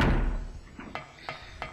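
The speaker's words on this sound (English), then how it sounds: "Go to the door, Harry." Door in the video game Silent Hill, a heavy thud followed by three sharp knocking clicks spaced evenly apart, fairly quiet and with no talking.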